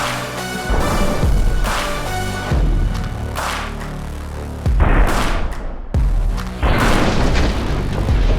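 Fire-extinguishing missiles detonate in a rapid series of loud, deep booms, each followed by a rumbling roar and crackling debris. The blasts come in several separate bursts.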